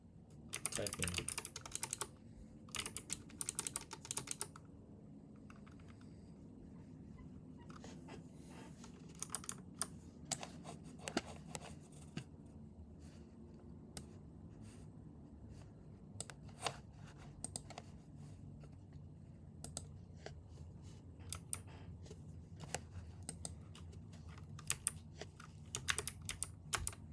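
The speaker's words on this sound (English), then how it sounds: "Typing." Steady typing on a computer keyboard, rapid close clicks in bursts with short pauses, quiet throughout, with a voice talking at times.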